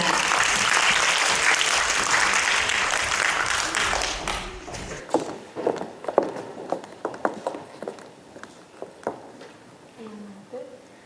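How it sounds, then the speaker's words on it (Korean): Loud applause from a youth humanities event audience welcoming a presenting team, a dense roar of clapping that fades after a few seconds into scattered individual claps and footsteps as the team takes the stage. "여러분 큰 박수로 모시겠습니다"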